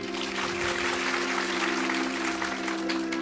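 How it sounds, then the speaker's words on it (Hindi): Audience applause breaks out at a Hindi spiritual discourse, a dense steady clatter of clapping under a constant low electrical hum. "सवाल के लिए तालियां बजाइए।"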